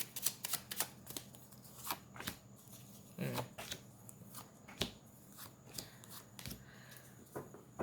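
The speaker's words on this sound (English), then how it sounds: "But I know you want to see more cards, so let's pull some more." Tarot cards being shuffled and pulled, a run of crisp riffling flicks and snaps close up, with irregular bursts and short pauses between them.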